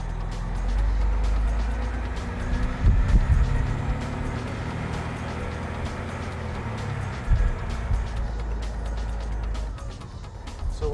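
A fire apparatus rig being driven, a steady low engine and road rumble throughout with a couple of louder surges, no talking.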